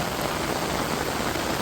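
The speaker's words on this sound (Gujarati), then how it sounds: "અત્યારે તો ફૂલ વરસાદ શરૂ છે આપણે" Heavy monsoon rain pours steadily over flooded village farm fields, a dense, continuous hiss of drops with no pauses, close and loud throughout.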